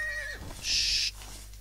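In the video game Rising World, a horse gives a single clear whinny, close and fairly loud, over a low steady background hum.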